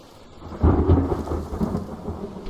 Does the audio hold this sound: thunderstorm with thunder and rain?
yes